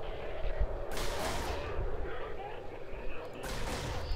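Ship guns firing in EVE Online, two broad booming shots a few seconds apart over a steady droning game soundscape.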